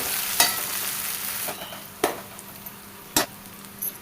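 Slit green chillies and ginger garlic paste fry in a pan under a soft, steady sizzle, broken by a few sharp scrapes of a spoon stirring at irregular intervals, with no one talking.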